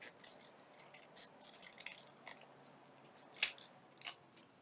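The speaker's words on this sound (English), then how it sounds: "So I'm just going to trim this." Scissors trimming paper for a junk journal collage project, heard as a few faint, sparse crisp snips spread out over quiet background with no talking.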